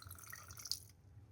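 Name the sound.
pouring gin from bottle with measuring cap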